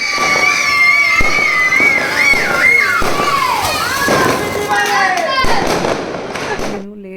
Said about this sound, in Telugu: కార్తీక మాసం మొత్తము ఇలా క్రాకర్స్ పేలుస్తూనే ఉంటారు